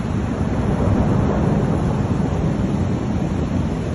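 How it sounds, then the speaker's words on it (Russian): Strong gusts of wind in Odessa after a thunderstorm, heard as steady, loud, broadband rushing and buffeting against the microphone, with no voices. "И очень сильные порывы ветра, которые сохраняются до сих пор."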